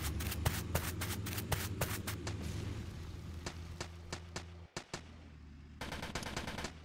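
Turret gunfire in the video game Polybattle: rapid sharp shots crackling in uneven bursts over a constant low rumble, with a short gap before another dense volley.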